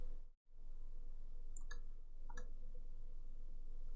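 A couple of sharp, isolated mouse clicks while working in the AWS management console, spaced apart over a steady faint background hum.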